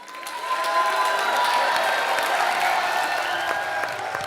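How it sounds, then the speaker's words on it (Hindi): A television comedy show's studio audience bursts into applause, swelling within half a second into a sustained, loud wash of clapping with some cheering that holds steady to the end. "तो जोरदार तालियों से स्वागत कीजिए"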